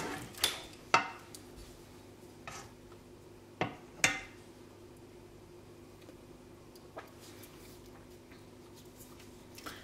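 Salted caramel seasoned with fleur de sel being stirred in a bowl, a utensil scraping and knocking against the bowl in a few sharp, irregular clinks over a low steady hum, with quieter stretches of soft stirring between.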